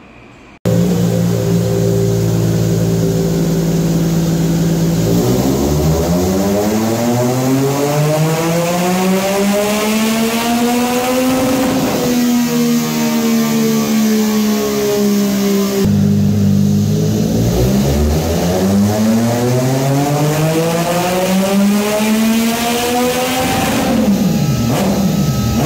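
A Triumph Trident 660 motorcycle with a full aftermarket exhaust revs hard on a dynamometer, steadily climbing in pitch through repeated full-throttle pulls, very loud and close, with brief drops between runs.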